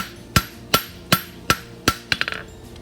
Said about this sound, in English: I'm just gonna use fullering blows with the edge of my hammer to pull that down.